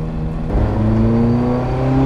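Ferrari F40 engine on overrun at very low road speed while still cold, a close, loud burbling drone that deepens after a brief bump partway through, with no talk over it.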